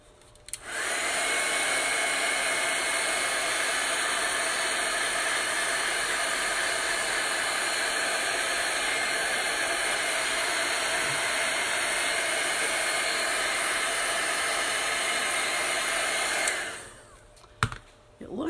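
A hair dryer blows steadily for about fifteen seconds, drying chalk paste on a painted farm apples sign, a loud close whooshing roar that switches on, holds even and then cuts off near the end.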